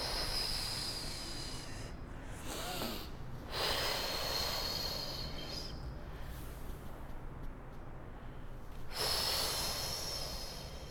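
Slow, deliberate inhales and exhales during a Pilates breathing exercise for pregnancy, a steady airy rush with a few sharper snort-like intakes, close and fairly soft, without talk.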